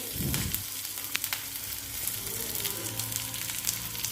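Onions, shallots, green chilli and curry leaves sizzle and fry in hot oil in a steady, continuous crackle, with a few sharper pops and low spatter throughout, close and fairly loud with no voices.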